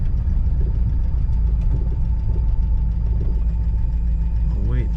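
A 1950 Buick Special Sedanette engine running with a steady, loud low rumble and a faint knocking texture, heard from close inside the car.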